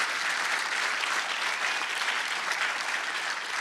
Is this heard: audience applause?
yes